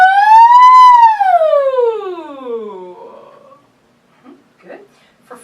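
A single voice imitates a siren, gliding up in pitch then sweeping down low, followed by a few soft vocal sounds and quiet.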